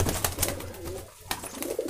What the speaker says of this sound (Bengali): কবুতরটা খুব হেলদি একটা কবুতর